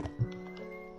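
A horse in a survival video game, heard as a brief clip-clop of hooves and a faint snort over a steady tonal game soundtrack hum; no one speaks.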